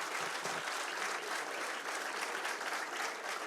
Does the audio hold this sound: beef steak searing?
no